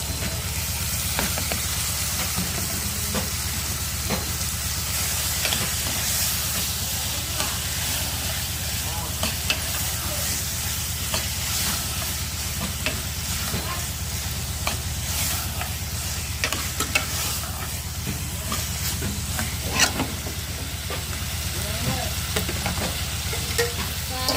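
Ivy gourd frying in a pan gives a loud, continuous sizzle with scattered scraping stir sounds, steady and close throughout with no voices.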